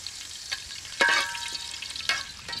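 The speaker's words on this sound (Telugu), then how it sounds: "గిన్నె పొయ్యి మీద పెట్టి ఆయిల్ వేసుకొని చూపించిన పలావ్ ఐటమ్స్ ఫ్రై చేసుకొని తీసి పక్కన పెట్టుకుందాం" Pulao ingredients frying in oil in a pot on the stove: a soft continuous sizzle broken by a few sharp clinks and scrapes of stirring, close by and with no voices.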